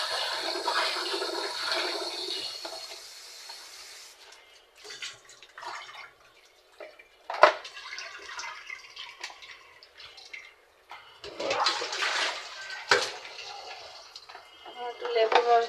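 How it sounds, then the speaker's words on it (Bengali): Fish being washed by hand with salt and water, with splashing, running-water sounds and bursts of rinsing that come and go across the scene, fairly close and moderately loud. "তারপরে লবণ দিয়ে ধুয়ে নিলাম।"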